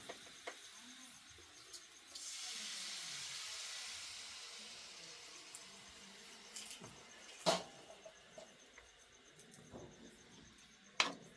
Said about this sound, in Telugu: కొద్దిగా నీళ్లు పోస్తున్నా